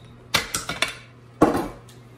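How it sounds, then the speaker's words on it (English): Metal clatter as the lid is taken off a 1959 Voss ST24 typewriter: a quick series of three or four close clicks and rattles, a short pause, then one louder clunk with a ringing tail. "So the first thing you wanna do is take off the lid."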